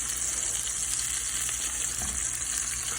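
Thick pieces of largemouth bass fry in a pan with a steady, dense sizzle that runs without a break from start to finish, close and fairly loud, with no talking over it.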